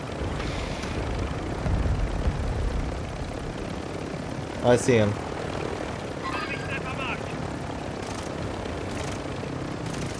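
A military helicopter in Warzone 2.0 drones steadily and loudly throughout, its rotor wash filling the background while a player speaks briefly over it.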